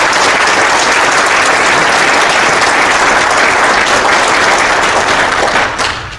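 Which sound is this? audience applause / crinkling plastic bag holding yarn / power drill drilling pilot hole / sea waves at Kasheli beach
audience applause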